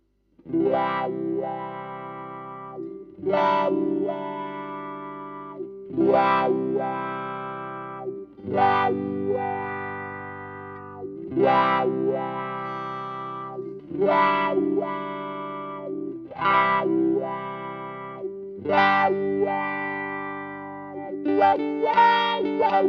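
Electric guitar chords played through a Dunlop Crybaby Classic wah pedal with a Chase Tone True Talk potentiometer, sweeping, vocal-like midrange tone, several sustained phrases in sequence, loud and close, no talking.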